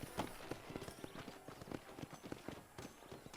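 Hoofbeats of a horse in the video game Red Dead Redemption, a quick, regular clip-clop of galloping carried over a dense ambient game background at moderate loudness.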